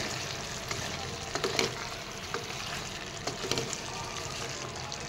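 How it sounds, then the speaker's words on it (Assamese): Fiddlehead ferns tossed into a pan and stirred give a soft, continuous sizzle with occasional scraping and clattering from the stirring, fairly quiet throughout. "ইয়াত এতিয়া মই ঢেকীয়াখিনি দি দিম। তলপৰ কৰি লৰাই দিম।"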